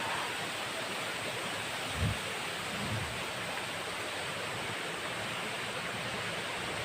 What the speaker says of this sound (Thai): เป็นน้ำตกสูงด้วยนะครับ รู้สึกว่าน้ำจะเยอะ